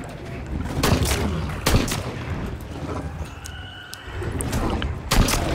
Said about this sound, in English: might just have to use my gun here